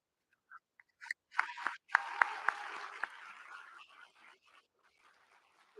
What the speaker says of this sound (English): Please join me in giving them a big round of applause once more.